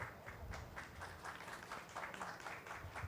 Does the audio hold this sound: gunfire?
no